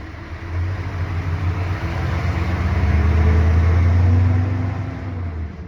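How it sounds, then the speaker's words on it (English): A large diesel truck engine starting up rumbles nearby at a port, its low drone rising and strengthening as it revs, then easing slightly. "There's a truck next to me starting up."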